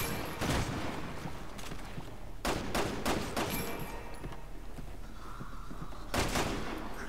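Bursts of gunfire ring out in the Resident Evil 6 Leon/Helena campaign demo, with sharp shots scattered irregularly over roughly seven seconds against a steady game-audio bed.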